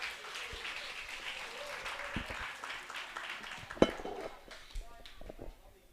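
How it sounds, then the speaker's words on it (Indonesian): Seminar audience at an Islamic boarding school in Solo applauds, a soft, fairly distant wash of clapping with a few sharper claps and clinks, fading near the end. "Benar sekali, tepuk tangan untuk Mas."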